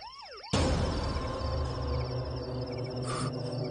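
A police van siren wails loudly and steadily for several seconds after a brief quieter rising tone, with a busy, noisy backdrop throughout.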